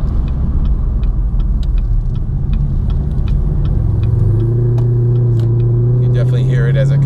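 Camaro fitted with a Stainless Works exhaust cruises then downshifts while braking, a steady low rumble from inside the car that shifts pitch as revs change, with a voice talking over it.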